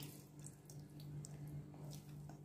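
Tap water pours steadily into a kitchen sink while cooking, a close, continuous splashing with a low hum beneath and small drip-like spatters scattered on top.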